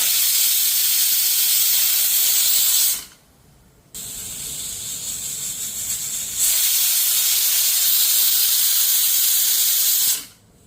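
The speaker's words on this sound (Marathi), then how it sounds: "कुकरचं झाकण लावलेलं आहे, आपण 2 शिटी करून घेऊया" A pressure cooker boiling drumsticks on a gas stove lets off loud sustained steam hissing in long blasts, cut by brief near-silent gaps.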